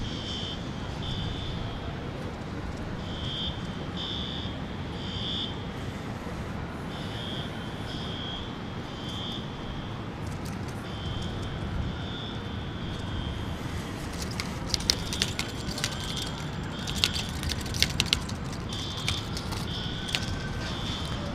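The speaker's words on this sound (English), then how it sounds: "that buzzing sound is some sort of an alarm" A buzzing alarm sounds at Dallas Love Field airport on a rainy day. It pulses on and off in a steady repeating rhythm over a constant wash of rain and ambient noise, with a few sharp crackles near the end.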